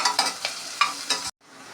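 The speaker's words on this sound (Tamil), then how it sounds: "இடிச்சா இஞ்சியும் பூண்டும் இது ஒரு நிமிஷம் ஃப்ரை பண்ணிக்கலாம்" Crushed ginger and garlic frying in a pan for kuska rice, a close sizzle with several scraping stirs in a loose rhythm, then a brief silence before a quieter sizzle resumes.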